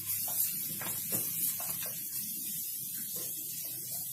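Grated ginger and garlic sizzle in hot olive oil, a steady close hiss with faint crackle running throughout.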